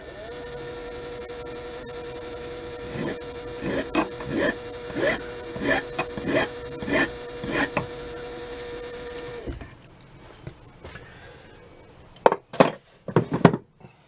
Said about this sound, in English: Just run a file over that to give us a bit of a taper.